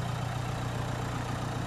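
Diesel engine of a metallic grey Renault Captur with a 5-speed manual gearbox, idling with a low, steady hum, close and even, with no talking.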